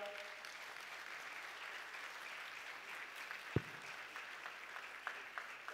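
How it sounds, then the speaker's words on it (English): Applause for a panel at a political economy development plenary, a soft, distant patter of clapping from the audience, even and continuous, with one sharp knock partway through. "Would you be kind enough to please give a round of applause to my panel?"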